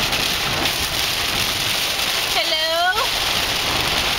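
A heavy rainstorm roars as a steady, loud wash of rain around a car on the road, with a short bending tone cutting through it near the middle.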